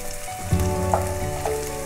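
Sliced shallots are dropped into hot oil with fried coconut pieces for a Kerala-style beef roast. A steady sizzle rises in a sudden crackling burst as they hit the pan.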